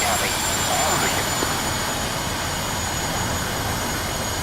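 Airbus airliner jet engines roaring steadily in a flight simulator game during takeoff thrust on the runway, a continuous broadband whine and rumble at constant loud level throughout.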